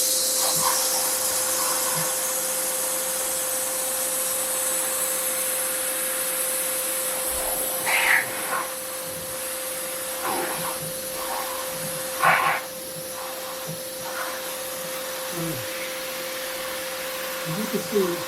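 A Festool CT15 dust extractor runs at full power with a steady, loud whooshing hiss and a constant whine, while a person talks faintly over it at times.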